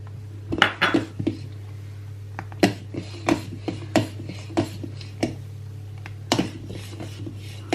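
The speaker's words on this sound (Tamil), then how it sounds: "இப்போது நான் எடுத்து வைத்திருக்கும் கஜுவில் அரைவாசியினை இதனுள் போடுகின்றேன்." Cashews are tipped into a bowl while making wattilappam, giving light clinks and scraping knocks against the bowl in an uneven series, close and quiet over a steady low hum.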